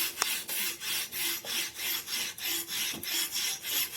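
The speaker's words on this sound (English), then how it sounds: "I start at one end, and I just walk across, like this, sharpening until, I've taken off a bit of metal" A scissor blade drawn across a Hapstone knife sharpener stone, cutting on both strokes with light pressure, gives a steady, even run of about eight rasping back-and-forth strokes, close and clear with no talk.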